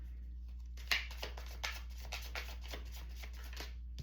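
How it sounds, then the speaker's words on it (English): Tarot cards being shuffled by hand, a quiet run of soft riffling flicks and taps in quick irregular succession over a low steady hum, close and alone with no talk. "I'm gonna take that one and I'm gonna continue shuffling."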